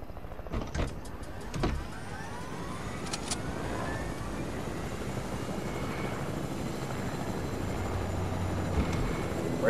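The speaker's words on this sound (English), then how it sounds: "Helicopter, come up." A Fortnite helicopter whirs with a steady rotor drone that grows slightly louder and nearer over time. A few sharp clunks come at the start, and there is no talk.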